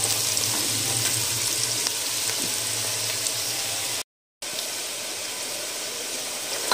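Garlic and ginger fry in hot oil for vegetable pulao, giving a dense, steady sizzle close by that breaks off for a moment and then resumes just as strongly.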